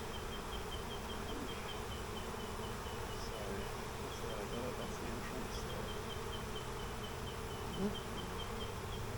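Honey bees swarm densely around an open hive thick with burr comb, a loud continuous buzz filling the air while someone speaks briefly over it.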